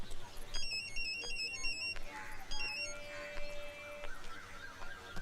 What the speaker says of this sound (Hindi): अबे नहीं पता तो निशा को फोन लगा और उससे पूछ